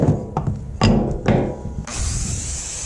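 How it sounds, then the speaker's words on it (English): A wooden spindle for an antique spinning wheel is trimmed, with a few short rasping strokes followed by a steady, close power-tool whir. "so I'm going to trim that some more"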